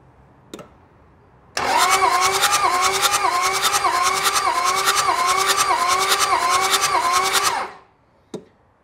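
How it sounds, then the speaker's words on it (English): Toyota Land Cruiser diesel engine cranking over on the starter during a compression test, a fast, even, loud churning rhythm that lasts about six seconds between brief clicks, with no talking. "So when you're ready, Matt, could you please kick it over for about 5 seconds?"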